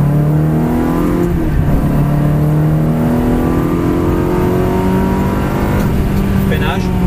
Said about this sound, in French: on reste bien à gauche et on accélère jusqu'au point de freinage